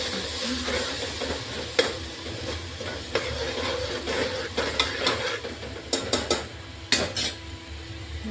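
Green val beans and potato curry are stirred in a pot with garlic, a spoon scraping and clinking against the metal in uneven strokes over a low background sizzle, no talking.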